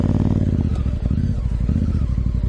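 A 2018 Honda Africa Twin motorcycle engine running close by, its twin-cylinder idle thumping in a rapid, even pulse with a slight dip just after starting.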